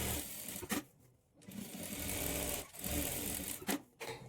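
A sewing machine stitches a plain blouse in close, whirring bursts broken by short pauses, running steadily between the stops.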